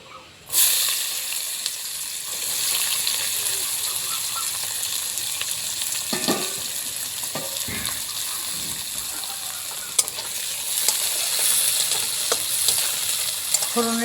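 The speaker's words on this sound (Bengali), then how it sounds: "সঙ্গে পেঁয়াজটাকে লাল লাল করে ভেজে নেব" Chopped onions fry with bay leaf tempering in a pan for a fish curry, a steady loud sizzle and hiss that jumps up as they go in and keeps going, with brief stirring scrapes.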